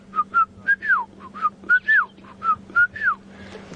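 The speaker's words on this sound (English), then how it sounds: "There's a bird calling." A Shelley's francolin calls repeatedly outdoors in the bush at Djuma Game Reserve during a morning safari drive, a series of rhythmic, rising-and-falling whistled notes in a steady cadence over a faint low hum.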